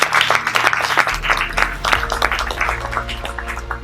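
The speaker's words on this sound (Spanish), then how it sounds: "pido un aplauso para él." An audience at a Spanish commemorative talk claps steadily for an honored municipal official, with irregular close claps and a low hum underneath.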